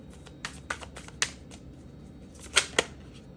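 Tarot cards being shuffled and drawn, heard as a quiet run of crisp snaps and flicks, with two sharper card slaps near the end.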